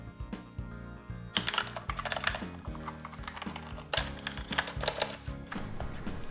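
Rapid mechanical key clicks from a Corsair Vengeance K90 mechanical gaming keyboard, with its programmable macro keys, a sparse tapping at first, then dense bursts of close, loud typing.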